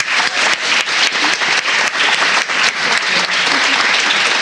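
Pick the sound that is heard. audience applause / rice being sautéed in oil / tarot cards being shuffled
audience applause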